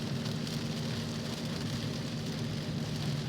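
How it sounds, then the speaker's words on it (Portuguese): Heavy rain drums steadily on a car roof during a downpour on a highway, forming a dense, continuous, close roar with no gaps and no voices. "E é muita chuva mesmo, é bastante chuva. Olha o barulho no teto do carro que nós observamos aqui."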